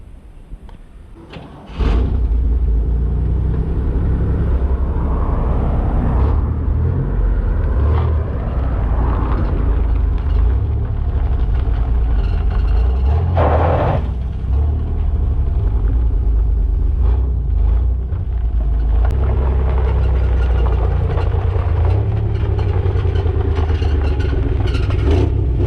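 A smashed Chevrolet S-10 pickup truck's engine runs after a jump start, a steady low idling rumble that kicks in after a couple of seconds and carries on with occasional clunks and rattles, no talking.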